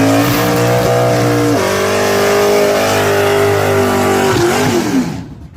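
Car engine revving loudly and steadily close by, pitch holding then dropping briefly before climbing again, ending with a fade.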